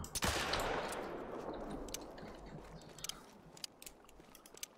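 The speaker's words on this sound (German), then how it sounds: "44er Revolver noch." A .44 revolver in the hunting video game The Hunter: Call of the Wild fires one sharp shot that decays into a long echoing tail, followed by faint clicks and handling noises.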